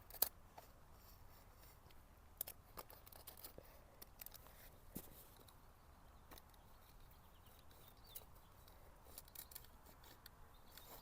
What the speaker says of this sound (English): Let's try to get this cut. Oh, it's super easy to cut.